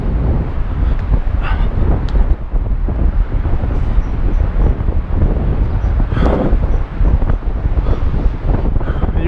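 Strong wind buffets the microphone high atop a construction crane in Dubai, a continuous loud roaring rumble with gusty surges and no voices.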